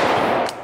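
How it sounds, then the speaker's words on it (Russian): A single AR-15 rifle shot fired into ballistic gel backed by concealed-carry body armor, a short loud blast with a sustained ringing decay and no voices. "Как насчет АР-ки без прицела? Попробую попасть чуть выше калаша, наугад сейчас стреляю."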